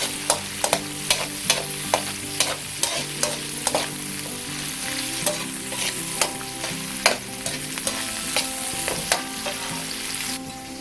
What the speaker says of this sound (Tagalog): Tapos haluin na naman po natin.